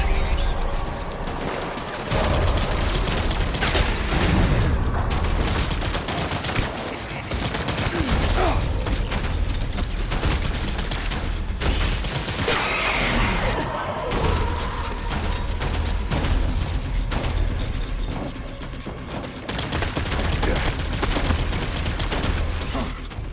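Rapid, dense gunfire from a firefight in the video game Death Stranding, bursts and volleys running almost continuously with crashing impacts, voices calling out over the shooting.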